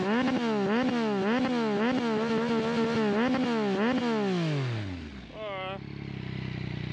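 A Yamaha MT-09 motorcycle engine runs loud and close in a rhythmic, repeated throttle pattern, then winds down and cuts off, followed by a brief short whine and quieter ambient noise.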